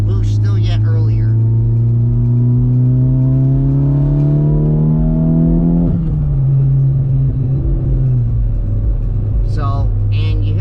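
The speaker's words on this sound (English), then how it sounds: "you hear the VTEC crack every time" A Honda Civic Type R FK8 with turbocharged engine and upgraded cams accelerates hard from inside the cabin, rising in pitch through a gear, dropping at a shift, then pulling again, loud and continuous while someone talks over it.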